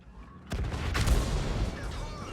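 A sharp tank cannon shot in World of Tanks, followed by a rolling, rumbling boom that fades slowly, with faint background noise beforehand.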